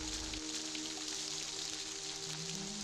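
Steady rain pours through a street scene, an even hiss that fills the whole stretch, with a low hum and faint tonal background sound beneath it.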